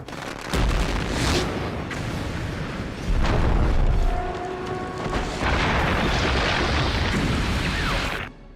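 Explosives go off in a building demolition implosion, a series of deep booming blasts that roll into a sustained roar of collapsing structure lasting several seconds, loud and heavy.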